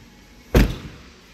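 A Porsche door with a 6-speed manual gearbox opens with a single short, close clunk against a quiet background, then a brief fading rattle.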